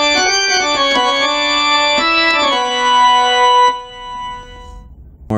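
A Casio CT470 keyboard from the late 1980s plays an organ voice in a short run of bright, sustained chords that shift pitch a few times, loud and close, then stop and leave a faint tail.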